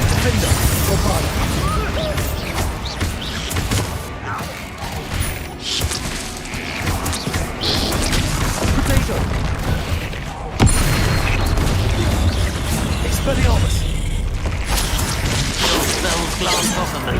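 In a Hogwarts Legacy battle, Bombarda blasting spells set off a sustained run of loud booms, crashes and shattering debris, with a heavy hit about two-thirds through and game voices speaking amid the chaos.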